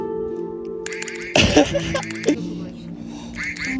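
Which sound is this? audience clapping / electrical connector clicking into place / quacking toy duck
quacking toy duck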